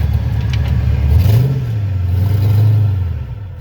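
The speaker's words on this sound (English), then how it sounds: "There's a Mustang. Yeah. Nice car." A Ford Mustang passing on a road, heard from inside another car as a steady mid-pitched engine note that rises and swells, then fades away over a few seconds, with no talking.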